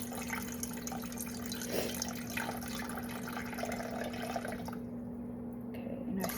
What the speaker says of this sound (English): We're just going to pour it right in on top of the starter.